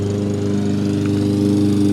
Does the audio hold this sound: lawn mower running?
yes